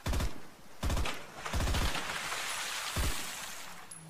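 Gunfire in the Project Ferocious survival game trailer: several sharp bursts of rapid shots separated by short pauses, loud and close.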